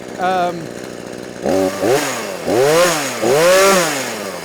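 Harbor Freight Portland 42cc gas chainsaw blipped repeatedly near the microphone, each throttle burst rising and falling in pitch with short idle gaps between revs.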